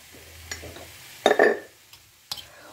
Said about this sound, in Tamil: உப்பை போட்டு ஒரு ஃபியூ மினிட்ஸ் அட்லீஸ்ட் இதை பரட்டி விடுங்க